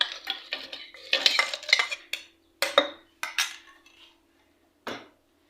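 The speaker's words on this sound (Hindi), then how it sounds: "अब हम इसके अंदर डालते हैं बर्फ़" Ice being dropped into watermelon sharbat in a container, a run of sharp clinks and clatters close by, bunched early then sparse with a final knock.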